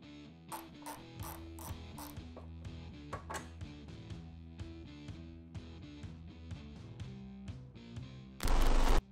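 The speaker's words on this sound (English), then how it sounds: "Now for these screws, you can use a 1/2" socket or a T40." Ratchet socket working on screws from a Harley-Davidson dash panel, a run of quick clicking ratchet strokes and metallic taps at close range, ending in a short loud burst of noise.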